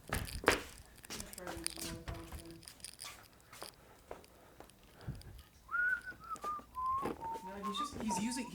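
Someone whistles a Christmas carol melody near and clear, the tune rising and wavering in short phrases, following a stretch of crunching, tearing and handling noises with quiet talk.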